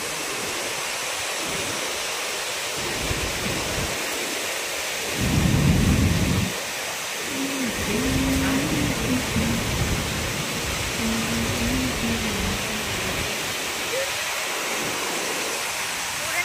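Heavy rain pours in Guntur, a dense, loud, continuous roar of rainfall with passing vehicle swells and faint voices underneath.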